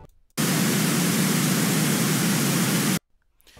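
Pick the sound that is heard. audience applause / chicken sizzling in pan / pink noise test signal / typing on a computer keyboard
pink noise test signal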